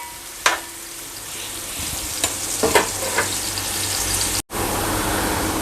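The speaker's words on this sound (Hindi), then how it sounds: "प्याज को मैं अच्छा ब्राउन कर लूँगा।" Finely chopped onions sizzle and fry steadily in a pot for a chicken pulao, with a continuous close crackle, a few sharp clicks of a utensil, and a brief dropout near the end.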